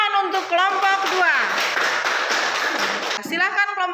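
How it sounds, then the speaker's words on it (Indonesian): A classroom of students claps for a group, a burst of applause running for about two seconds between stretches of a teacher's voice. "Tepuk tangan untuk kelompok 2."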